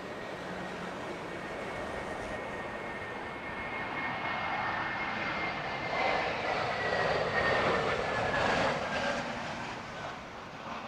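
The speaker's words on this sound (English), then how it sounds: "This one an A320neo inbound from Frankfurt." A Lufthansa Airbus A320neo jet inbound from Frankfurt lands at Heathrow. Its engines make a fairly faint, distant roar that swells and fades with a rising whine partway through.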